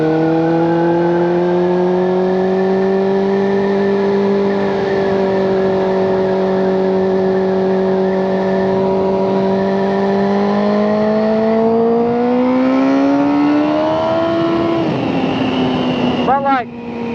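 A 600cc motorcycle engine revs steadily while being ridden, its tone holding and then climbing near the end before dropping off, loud and close under a running voice.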